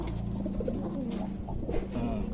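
Pigeons coo close by in a loft of birds kept by a fancier, low repeated throaty calls overlapping in a steady murmur with light flutters and shuffling.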